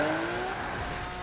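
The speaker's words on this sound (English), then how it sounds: "the new Lamborghini Centenario, the perfect car to open up on some of the game's fastest highways" A Lamborghini Centenario in the racing game Forza Horizon 3 on Xbox One, driven hard on fast highways, with a steady, loud engine drone and a sustained tire squeal throughout the short burst.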